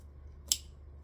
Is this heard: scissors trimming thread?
yes